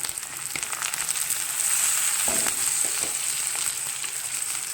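Onions, chillies and curry leaves sauteing in hot oil in a pan, a bright continuous sizzle with a few soft scrapes of stirring, fairly loud and close with no voices.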